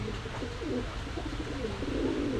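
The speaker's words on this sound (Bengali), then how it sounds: "এক পেয়ার গলার লাল কবুতর" A pair of red-necked pigeons at a shop coo in soft, repeated throaty rolls close by, against a steady background murmur of room noise.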